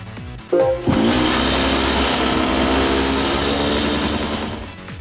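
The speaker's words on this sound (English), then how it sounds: "Sounds like a lawnmower." Race car engine in Gran Turismo 5 with a thin, buzzy lawnmower-like tone: a quick rev, then a sustained high-pitched whine that holds steady and fades slightly at the end, with no talking.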